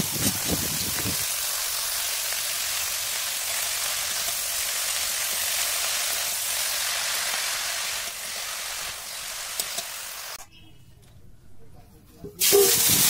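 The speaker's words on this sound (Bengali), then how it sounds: "চলো আমি শাকটা ভাজা করে নিই ফার্স্টে" Leafy greens frying in a hot pan, a continuous close hiss and crackle that runs steadily, then drops away near the end before a brief louder burst of noise returns.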